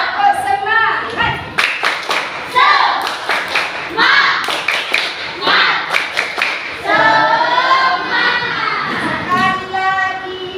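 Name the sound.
class doing 'tepuk semangat' rhythmic clapping chant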